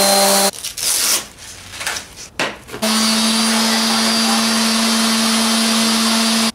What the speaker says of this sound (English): Moving on to the palm sander.